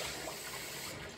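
Water poured into a pot for homemade vegetable noodle soup, a steady close rush of running liquid filling the pot without pause, alone with no talking.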